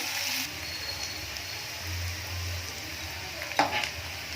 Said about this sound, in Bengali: লাল করে আমি পেঁয়াজটা ভেজে নেব বেরেস্তা বানানোর জন্য